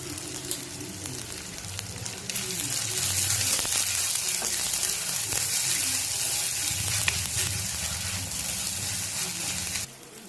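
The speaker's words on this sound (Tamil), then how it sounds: "நல்லா ஃப்ரை பண்ணிக்கணும்." Mint sizzles as it fries in a pan for Chettinad-style goat trotter paya, a steady crackling hiss that grows louder after the first couple of seconds and holds until the final moment.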